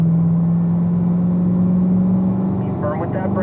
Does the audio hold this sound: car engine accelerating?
yes